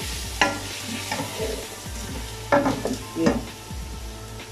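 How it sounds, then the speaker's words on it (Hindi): Spices such as chaat masala and paprika being stirred into a chicken and chickpea curry in a pan, with a steady sizzle and a few spoon scrapes and knocks, close. A brief spoken word is heard. "इसी तरह इसको थोड़ा सा हिलाएंगे"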